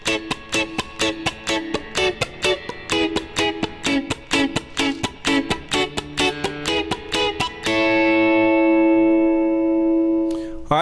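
Upbeat reggae chords on guitar, moving up the neck through different chord shapes and triads, as crisp, evenly spaced offbeat strums close up, finishing on a long sustained chord that rings out alone.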